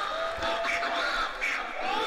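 Wrestling arena crowd roaring and shouting together as a madman vanishes into it, a dense continuous wash of voices with scattered higher yells rising and falling.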